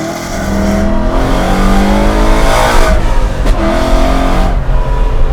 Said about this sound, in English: I love that backfire you get between shifts.